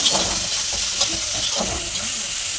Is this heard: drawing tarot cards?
no